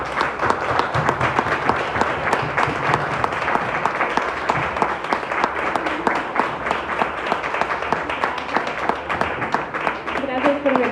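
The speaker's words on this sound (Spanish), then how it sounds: "Les pido a todos que le den un cálido y fuerte aplauso a la vida." An audience at a talk gives a long, warm round of applause, dense steady clapping from many hands filling the room, with a voice speaking briefly near the end.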